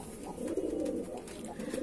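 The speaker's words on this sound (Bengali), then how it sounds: "লালশিরা পায়রা" A red-headed Madrasi pigeon gives a low, rolling coo, close and fairly soft, lasting under two seconds with no voices.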